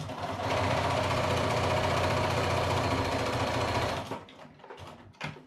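A sewing machine stitches quilt pieces in a steady, fast whirring run for about four seconds, then stops, leaving a few faint clicks and handling sounds.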